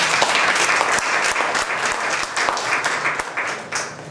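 Audience applause at a library dedication ceremony, a dense, steady wash of many hands clapping that holds at an even, fairly loud level throughout with no voices breaking through.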